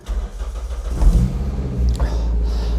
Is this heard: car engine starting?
yes